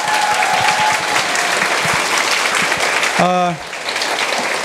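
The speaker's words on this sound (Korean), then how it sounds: "우리 합격을 같이 일궈내 주신 우리 선생님들께 다시 한번 큰 박수 부탁드립니다." An audience at an offline interview lecture applauds their teachers with dense, loud clapping, and a brief voice breaks in near the end as the applause eases.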